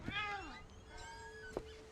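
Several meows from a cat in What Remains of Edith Finch, close and clear, with drawn-out rising and falling tones and a brief gap between the calls.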